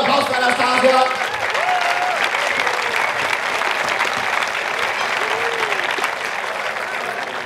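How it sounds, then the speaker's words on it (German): Audience applause at a science slam, a continuous bed of many hands clapping at even volume, with a voice and brief whistles or tones rising above it now and then. "Einen Applaus für Anastasia."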